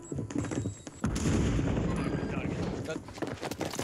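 Rapid gunfire and heavy booms fill a ranked video game match, with sustained bursts over a dense, rumbling mix and brief talk.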